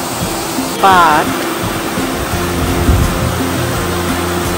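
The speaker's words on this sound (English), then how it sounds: "the water is flowing because they said it's hot spring. That's why it's still flowing the river." Hot spring water flowing in a river beside a bridge in snowy Hokkaido, Japan: a steady, broad rushing wash fills the scene, with a brief voice and some background noise over it.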